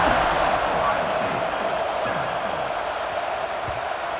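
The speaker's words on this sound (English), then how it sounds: "this crowd is buzzing after that last score" A college football video game stadium crowd hums with a dense, steady roar after a score, filling the background at even loudness while a commentator talks over it.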